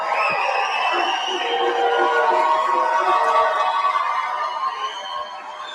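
A large crowd cheers and whoops at a Turning Point USA event in Phoenix addressed by President Trump, a loud, sustained roar of many voices that holds steady throughout.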